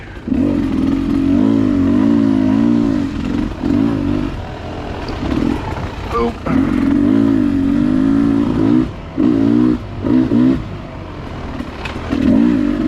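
A Beta 300RR two-stroke dirt bike engine buzzes loud and close on a trail, revving in wavering bursts that briefly drop off and come back, with no voices.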